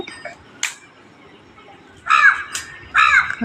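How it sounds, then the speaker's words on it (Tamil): Crows caw outdoors, a few short harsh calls, then two loud raspy caws close by near the end, over quiet background. "காக்கால கத்திட்டு இருக்கு"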